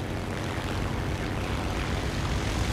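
A plane in flight in War Thunder, a steady loud propeller-engine drone with no break, and no talking.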